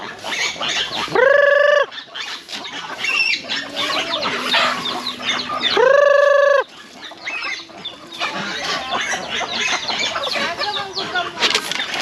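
Farmyard geese honk in two loud, drawn-out calls close by, with turkeys and other fowl clucking and chattering throughout, plus some flapping and scattered background noise.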